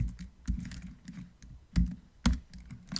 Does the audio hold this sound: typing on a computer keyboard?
yes